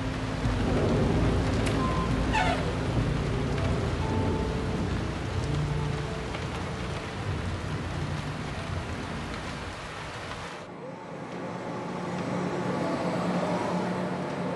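Heavy rain pours down steadily in a thunderstorm, with rumbles of thunder under the dense, hissing downpour that continues all the way through.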